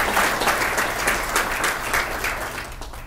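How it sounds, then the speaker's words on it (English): Audience applause fills the hall at the East Windsor 2014 State of the Township address, a dense, steady wash of clapping that holds for about three seconds before easing slightly at the end. "Let's give them applause."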